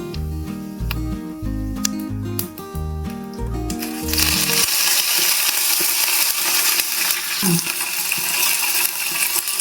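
Fennel seeds and curry leaves drop into moderately hot oil while a pepper meat fry is being cooked. A sudden loud crackling sizzle starts after a stretch of background music and continues as a dense, close hiss.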